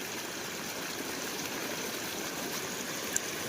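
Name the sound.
flood water flowing in a stream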